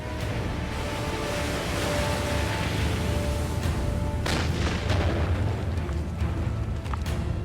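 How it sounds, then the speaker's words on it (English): Scattered light gunfire during a World War II Marine beach landing against Japanese defenders, a few sharp distant shots and booms over a constant loud rumbling background of wind or surf. "there's only light gunfire"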